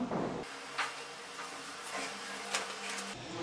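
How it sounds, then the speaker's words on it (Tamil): A sewing machine stitches handbag fabric in a steady, faint mechanical hum, with soft periodic ticks and brief rustles, heard close up and on its own throughout. "இப்போ தையல் போட்டோம்."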